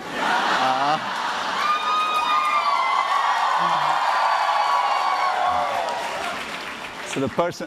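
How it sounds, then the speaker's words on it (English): A large crowd claps and cheers continuously, with whoops rising over steady applause that fades toward the end. "never gotten quite such an applause before"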